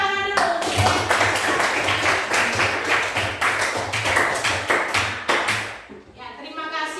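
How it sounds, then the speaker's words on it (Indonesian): A classroom of students clapping hands together in steady rapid bursts, close and loud, ending abruptly, followed by a moment of near silence with a faint voice starting. "mari kita tepuk tangan dulu"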